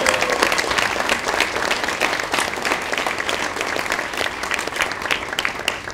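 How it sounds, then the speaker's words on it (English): A crowd applauds at an outdoor Pride illumination event at Columbus City Hall, a sustained, fairly loud bed of many people clapping with distinct individual claps popping through, no speech over it. "Let's give them another round of applause."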